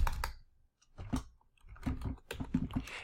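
Quiet computer keyboard typing during game programming work, several short bursts of clicky keystrokes separated by brief pauses, close and soft.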